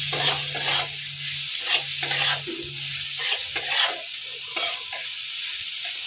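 Salted carrots, capsicum and other vegetables being stir-fried in a pan for restaurant-style mixed fried rice, a steady sizzle with repeated scraping and tossing strokes of the spatula, close and continuous with no talking.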